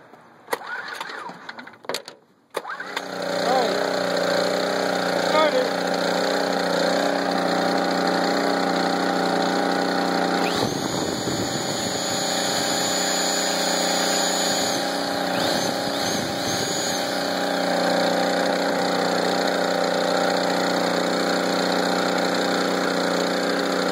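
A small portable generator engine is pulled into life after a few brief scrapes and knocks, then runs at a steady, loud, even drone close by for the rest of the time, with no voices.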